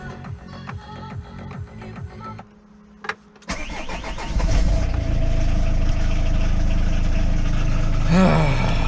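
A Peugeot 806 engine, freshly overhauled with a new clutch, cranks briefly after a quiet pause, then catches and settles into a steady, loud idle close by.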